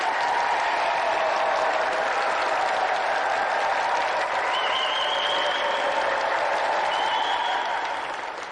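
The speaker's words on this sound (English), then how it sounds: "another round of applause for tonight's contestant, Richard" Studio audience applauding a game show contestant on a television gaming show, sustained dense clapping that stays loud and steady throughout, with no talk over it.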